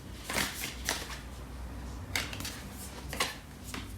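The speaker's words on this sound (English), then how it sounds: "I'm going to pull out 3 cards from the Lovers Oracle deck for this reading" Cards from a Lovers Oracle tarot deck being shuffled, with several soft riffling bursts at irregular intervals, close and fairly quiet.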